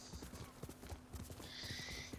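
Hooves clip-clop in a quick, steady galloping rhythm from a horse in the video game Ghost of Tsushima on PS4 Pro, fairly quiet and continuous, with no speech over it.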